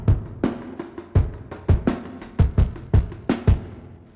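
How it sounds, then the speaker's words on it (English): Gritty, overdriven synth with bit-crushed downsampling for an alternative rock track, hitting in a steady series of about eight sharp, loud stabs, each with a rough, crunchy top end and a quick decay. "I have this bit crusher automation,"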